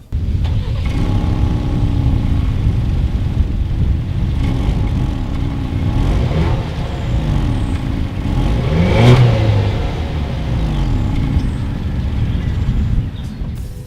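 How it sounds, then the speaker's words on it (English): 2020 Ford Explorer XLT with dual exhaust revving while parked, a steady close engine drone that swells into one louder rev near the end, with no talking. "As always, here is that exhaust clip."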